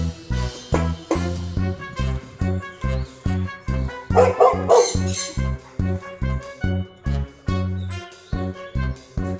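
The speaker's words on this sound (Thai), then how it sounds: "ไปเห่าอะไร" A dog barks over and over in a steady, loud rhythm, each bark close and sharp, with a brief stretch of higher, tinkling sound partway through and no talk.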